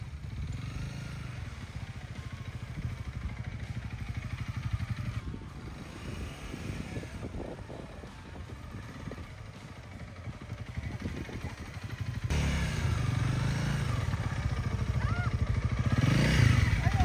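A motorcycle engine idles and labours at low volume as a learner rider practises starting uphill on an incline, with a rough, low rumble and faint voices in the background.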